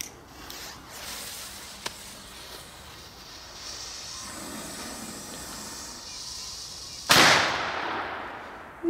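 A German Titanschlagblau black-powder firecracker goes off in one loud, sharp bang near the end, followed by a hissing decay, after several seconds of quiet outdoor ambience.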